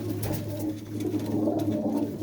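Top-class breeding pigeons in a fancier's loft give soft, low, continuous cooing close by, a steady throaty murmur with light ambient noise and no clear talk.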